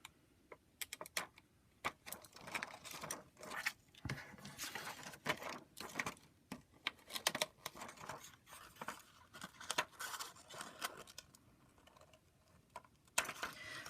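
Scissors or a craft blade cutting out the bottom and sides of a picture for a floating ornament, giving close, irregular crisp snips and paper rustles in quick bursts across the whole stretch with brief pauses, no voices.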